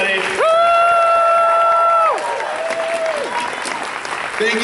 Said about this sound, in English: We have to give a massive round of applause for all of our cosplayers up here.